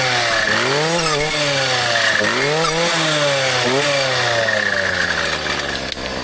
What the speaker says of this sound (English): It's a small engine with high RPM